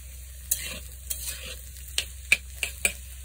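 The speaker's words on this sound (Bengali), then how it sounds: "আলু যখন অর্ধেক ভাজা হয়ে যাব তখন ডিম দিয়ে দিবেন" Potato pieces and egg frying together in a pan, a soft steady sizzle broken by several sharp scrapes and taps of a spatula as the food is stirred, close and fairly quiet.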